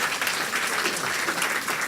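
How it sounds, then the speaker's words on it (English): An audience at a health awareness evening event gives the panel a round of applause, a thick, continuous spread of clapping from many people, loud and steady throughout. "could we have a big round of applause for our panel here tonight?"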